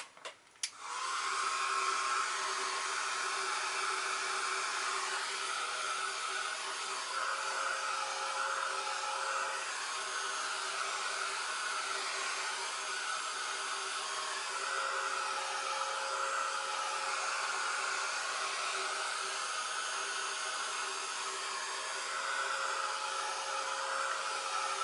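A craft heat tool blows steadily to dry ink on a stamped card background, a continuous loud whirring hiss held without a break after a short click at the start, with no talking.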